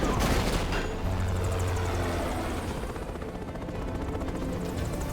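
A helicopter in the video game Metal Gear Rising: Revengeance thunders loudly with rapid rotor chop, mixed with bursts of gunfire-like crackle, continuous throughout with no speech.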